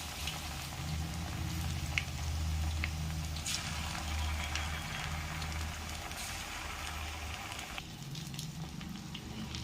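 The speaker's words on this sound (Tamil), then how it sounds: "நான் தேங்காய் எண்ணெயில் பொரிக்கிறேன், அதான் இப்படி முறையாக வருது." Steady crackling sizzle of chicken frying in hot coconut oil, continuous and close, with no voices.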